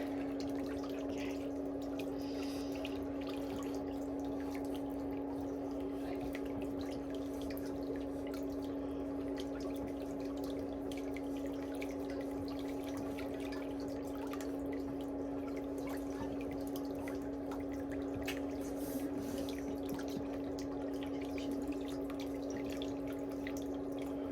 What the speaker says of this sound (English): Okay, you can put that foot back in the water.